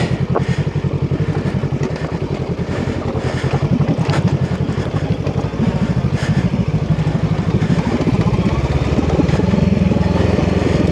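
A Honda CL500 motorcycle engine drones steadily in first gear while riding slowly downhill off-road over rocky ground, loud and close with some wind buffeting and no speech.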